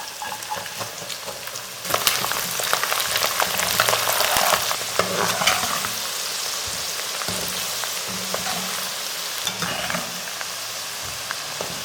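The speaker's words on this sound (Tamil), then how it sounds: "உளிச்சு வச்சுருக்கிற பூண்டு அதுக்கு அடுத்தது கட் பண்ணி வச்சுருக்கிற இஞ்சி இது ரெண்டையும் சேர்த்து நல்லா வதக்கிக்கலாம்" Peeled garlic and chopped ginger sautéing in hot sesame oil for a Kerala-style white lemon pickle, a dense crackling sizzle that surges loudly then settles, with intermittent stirring scrapes nearby.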